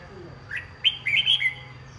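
A caged red-whiskered bulbul, about ten months old and hand-raised, sings a short bright phrase of several quick clear chirps, close and alone over quiet background hiss.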